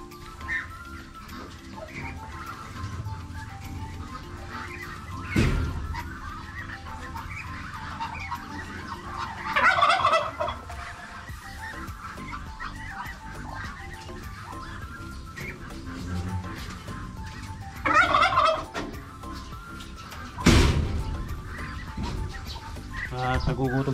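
Hungry ducklings kept at home call in short bursts of peeping and quacking while waiting for feed, with a person talking intermittently and occasional thumps nearby.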